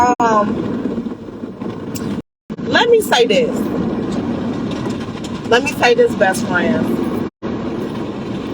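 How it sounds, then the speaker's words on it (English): Car wash machinery runs around a car with a low, continuous mechanical rumble and hum, heard beneath a person talking close by. "Sorry for the background noise, because y'all know I'm going to the car wash."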